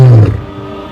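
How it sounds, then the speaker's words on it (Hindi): An Asiatic lion lets out a deep, powerful roar, loud and close, with the low rumbling call fading out after about a quarter second into a quiet tail. "बब्बर शेर जिसकी दहाड़ 8 किलोमीटर दूर तक सुनाई देती"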